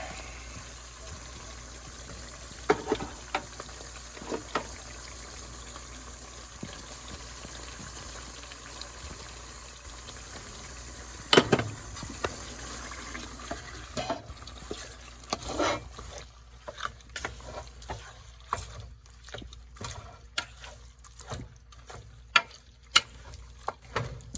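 Sun-dried tomatoes are stirred in a pan that just held cooked sausages, giving a soft steady sizzle broken by scattered clicks and scrapes of the utensil, quiet and close with no talking.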